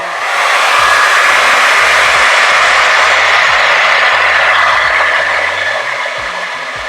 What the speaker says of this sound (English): Now I'm about to diffuse my hair because, you know, I like my curls.